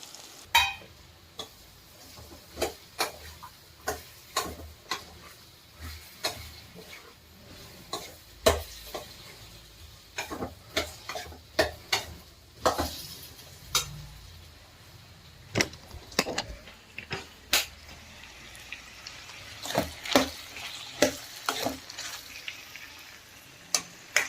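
Chopped ridge gourd frying in a pan with tomato and turmeric, a steady sizzle broken by frequent sharp scrapes and taps of the spoon as it is stirred, close and continuous.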